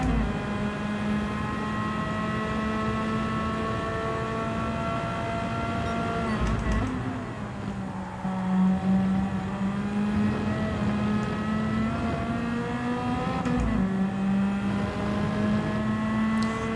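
A Nissan race car in Gran Turismo 7 accelerates hard, its engine whining upward through the gears with a couple of brief shift dips. The sound is sustained and steady, loud and up front, with no talking.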